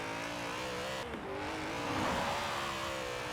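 BMW M3 GTR racing car in Forza Horizon 4, its engine droning steadily with a brief dip in pitch before revving up louder toward the end, with hints of tire noise.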